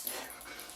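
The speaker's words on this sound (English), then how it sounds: "Excuse the dog." A dog whimpers and yips softly in a quiet indoor room, a short faint whine that is heard on its own.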